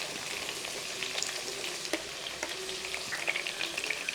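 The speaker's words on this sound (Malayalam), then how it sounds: "ആ മുളകൊന്ന് വറുത്തെടുക്കണം." Dried red chilies fry in hot coconut oil in a pan, giving a continuous close sizzle dotted with small crackles and pops, with no voices over it.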